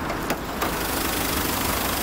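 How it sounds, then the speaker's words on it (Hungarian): Volvo V40 1.9 DCI diesel engine idling with the bonnet open, a steady, even mechanical hum with light rattle throughout, fairly loud and close, no talking over it. "annyira csendesen jár ez a moci, hogy akár azt mondhatnánk rá, hogy ez egy benzinmotor, pedig aztán ugye nem, hanem egy dízel moci ő"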